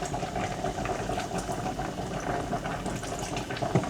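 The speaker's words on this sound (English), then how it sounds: "I put just a little bit of water" A little water is poured into a cooking pot in a home kitchen while making butternut for dinner, a soft continuous splashing trickle lasting a few seconds.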